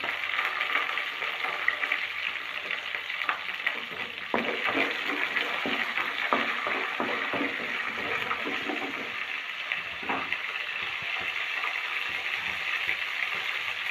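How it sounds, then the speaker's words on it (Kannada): Green chillies frying in hot oil in a pan while cooking radish palya, a steady broadband sizzle and crackle with scattered sharp pops running continuously and fairly close throughout. "ಹಸಿಮೆಣಸಿನ್ಕಾಯಿ ಸ್ವಲ್ಪ ಇದರಲ್ಲಿ ಫ್ರೈ ಆಗ್ತಾ ಇದೆ"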